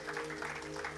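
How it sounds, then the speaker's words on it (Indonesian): A church congregation applauds during a sermon, a brief burst of steady clapping from many hands under a sustained hum. "Tepuk tangan yang meriah bagi Tuhan Yesus."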